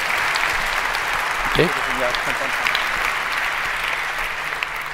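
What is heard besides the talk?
audience applause for a speaker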